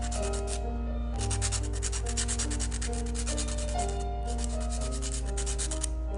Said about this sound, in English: So you hold the file and this side a little bit hard, so you move your fingernail on this to make the acrylic nail come off.